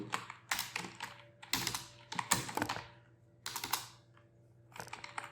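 Fingers tap out text on a computer keyboard in quick clattering bursts separated by short pauses, close and clear over a faint steady hum, with no speech.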